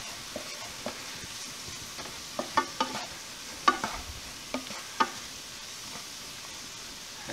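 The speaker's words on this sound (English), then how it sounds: "let's get our garlic in there as well. Get that stirred in." Garlic stirred into onions sautéing in a pot for green chili stew, with a steady close sizzle and frying hiss under intermittent scraping and knocking of the spoon against the pot.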